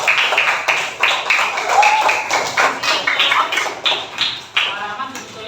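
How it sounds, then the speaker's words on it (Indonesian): Scattered classroom clapping for a student during a coaching session, uneven close claps and taps under overlapping voices and chatter. "Tepuk tangan dong buat Rizky."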